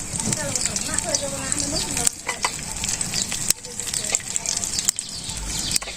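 Cumin seeds and bay leaves hit hot oil with a loud, close, continuous sizzle and crackle, with occasional sharp pops and a voice talking over it.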